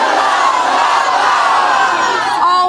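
A studio crowd shouts an answer in unison, a loud, dense wall of voices that lasts a few seconds before breaking up into scattered whoops.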